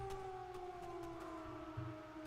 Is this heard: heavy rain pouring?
no